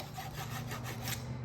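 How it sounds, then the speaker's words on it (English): A round file with an Oregon file guide rasps steadily across a chainsaw chain's cutters, a continuous gritty scraping with repeated strokes, close and alone. "how to properly sharpen a chainsaw chain"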